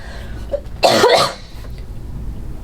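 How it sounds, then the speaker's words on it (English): A person coughs once in a loud, harsh burst close to the microphone, with a quieter throat-clearing sound just before it, then near silence. "Let me do a little cough session before we get started."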